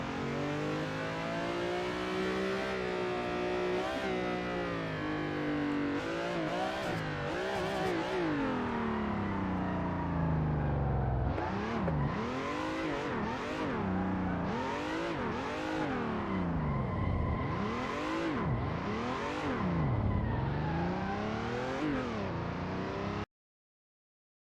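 A car drifts in Assetto Corsa, its engine held high and revving in long sweeping rises and falls, with sharp throttle blips and surges continuing steadily for over twenty seconds before stopping abruptly.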